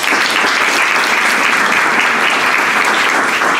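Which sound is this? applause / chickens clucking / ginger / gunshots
applause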